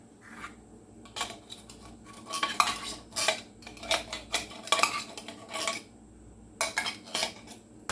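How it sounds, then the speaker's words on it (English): A metal spoon mixing tuna pot pie base in a bowl, repeated clinking and scraping strokes in uneven bursts, close and fairly quiet, with no voices. "Scrape all that off the spoon as much as you can. And you're just going to mix it well."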